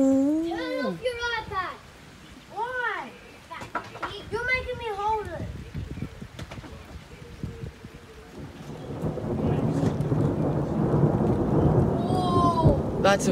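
Thunder rumbles and cracks through steady rain during a massive thunderstorm in St Leonards, with a voice chattering over the first half before the storm noise swells louder.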